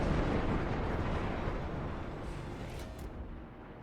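Incoming shells exploding in the World of Warships naval game, a dense, rumbling barrage that fades gradually over a few seconds, with no talk.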